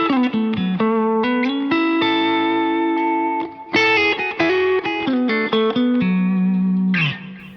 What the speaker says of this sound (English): I call a guitar tone airy if I can just barely touch the string and it doesn't sound muffled at all